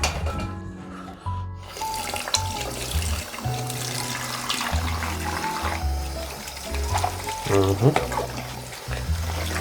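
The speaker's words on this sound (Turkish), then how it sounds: "Onlara bir su döküp geleyim." Water poured over dishes at a kitchen sink, a loud continuous splash and trickle with clinks of crockery, in a kitchen in Germany.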